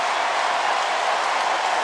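Football stadium crowd at Citadel vs Alabama roaring and applauding, a dense, continuous wash of cheering with no breaks.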